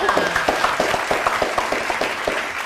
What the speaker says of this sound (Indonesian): Tepuk tangan dulu kesan Mbak Aisyah